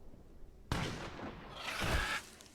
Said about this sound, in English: Okay, I'm gonna shoot.